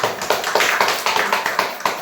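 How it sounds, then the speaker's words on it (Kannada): An audience claps loudly with steady, dense, rapid hand claps that keep up through the short stretch at an event, with no voices over it. "ಜೋರಾಗಿ ಚಪ್ಪಾಳೆ ಹೊಡಿ."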